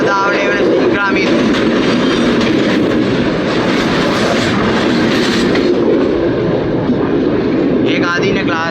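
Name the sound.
express train to Maho passing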